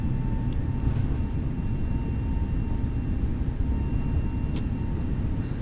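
Inside a Ryanair airliner at London Gatwick, the engines spool up toward takeoff thrust as a steady, broad roar with a faint high whine running throughout.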